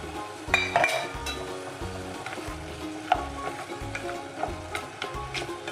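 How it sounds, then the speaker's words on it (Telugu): Oil sizzling steadily in a pan while pudina rice is cooked, with a spoon stirring and clinking against the metal now and then, close and continuous, with no voices. "ఒక 5-6 నిమిషాల పాటు ఈ స్మెల్ పోయే వరకు వేయించుకోవాలి"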